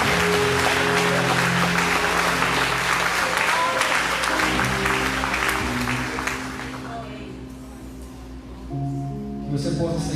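A congregation applauds loudly in a sustained wash of claps for several seconds, then tapers off beneath sustained musical chords before swelling slightly again.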